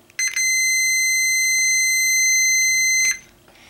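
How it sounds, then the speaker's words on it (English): A multimeter in continuity mode gives a single sustained electronic beep as its two probe tips touch, lasting about three seconds, clear and close with no talk. "most multimeters will emit a beep if continuity is enabled"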